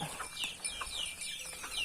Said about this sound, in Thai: มีไก่นี่เนาะ ไก่ก็หลายพอสมควร